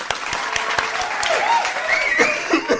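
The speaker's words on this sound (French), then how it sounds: "bravo, applaudissements" A small studio group claps after a quiz answer on a French TV-nostalgia show, scattered individual claps ringing out close by, mixed with light laughter and a brief voice.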